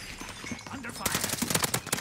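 Rapid bursts of gunfire in the Call of Duty video game fill the second half, sharp repeated shots following a quieter stretch with faint talk underneath.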